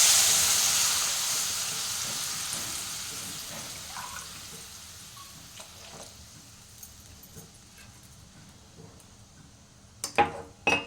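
Homemade coconut milk poured into a pan of prawn curry, a loud hissing sizzle at first that fades steadily to a low simmer, followed by a few clinks near the end.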